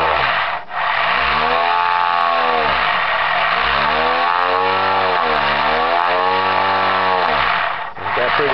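A rewired electric motor spins fast, producing a loud, continuous high whine with pitch that swoops up and down as the throttle changes, steady and close throughout.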